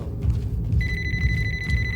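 A telephone rings in the Ready or Not video game, a steady electronic bell tone starting partway through and continuing over low background game ambience.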